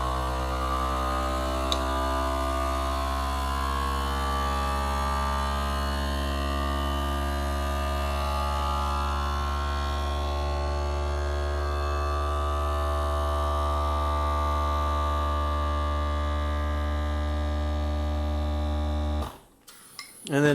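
A vacuum sealer's accessory port runs continuously for about nineteen seconds, pulling air from a jar through a suction-cup lid attachment, producing a loud, steady motorised hum with strong low tones, then stopping abruptly.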